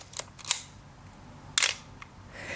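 A Pentax K1000 SLR camera fires its shutter a few times, with crisp close mechanical clacks and a lighter click between them, heard alone in a quiet room.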